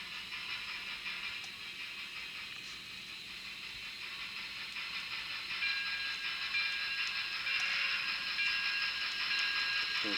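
N-scale model train with locomotive 104 rolling past on a freshly ballasted, scenicked layout, a steady close hiss and fine rattle that swells slightly toward the end, with no voices.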